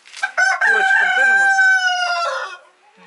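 A farmyard rooster crows loudly and close by in one long, sustained call lasting about two seconds, with nothing else prominent around it, in a poultry yard also housing broiler chickens and turkeys.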